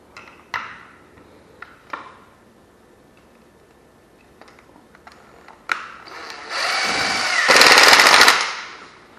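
A power drill drives a fatter screw into a bypass door: a few sharp knocks and taps, then the drill whirs up loud and steady for a couple of seconds before winding down.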